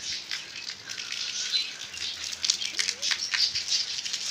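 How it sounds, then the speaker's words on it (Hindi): Steady rain falls outdoors, a broad hiss with light patter of drops continuing evenly throughout, with no one talking. "दो मिनट नहीं गुजरे और ये बारिश।"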